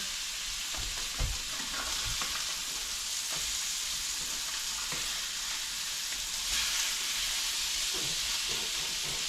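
A fish fillet coated in Wegmans blackening seasoning fries in a pan, giving a continuous close sizzle with a few soft thumps and scrapes of handling and no voices.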